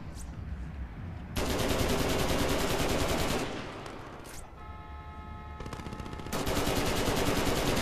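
Gunfire in the video game Crack Down: long, loud bursts of rapid automatic fire, a quieter stretch with a tonal game sound, then more sustained shooting.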